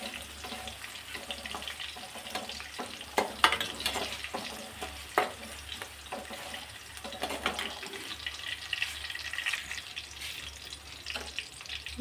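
Green chillies frying in a pan for tomato gojju, a soft crackling sizzle with intermittent stirring scrapes and clicks over a low steady hum, close and moderately loud, with no talking.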